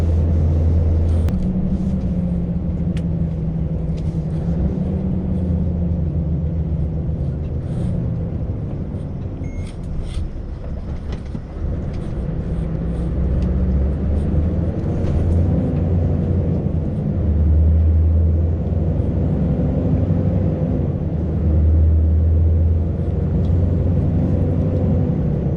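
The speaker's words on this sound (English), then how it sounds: "My truck is not sounding as well as it should be." Scania truck running rough on the road, a low steady engine rumble with wavering drone and road noise, heard from the cab over the whole stretch without talk.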